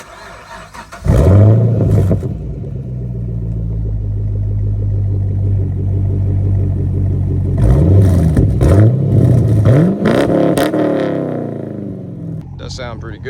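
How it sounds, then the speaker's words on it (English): Chevrolet Camaro SS with a 6.2-litre V8 and aftermarket exhaust starts up and settles into a loud, deep idle, then revs up sharply several times in quick succession near the microphone. "This is going to be an exhaust sound of his car."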